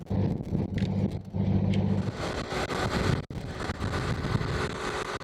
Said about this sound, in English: Here is the engine running.